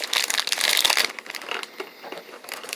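A plastic wrapper on a chestnut pastry crinkles in sharp, close bursts, loud at first and then softer and more scattered as it is worked open.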